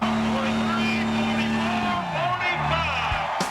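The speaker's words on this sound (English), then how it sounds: "It's noisy, which people seem to like the noise. It's racing a big truck, and it's just huge." Big racing monster truck engine roaring loud and close, its pitch shifting and then dropping, with a voice talking over the noise throughout.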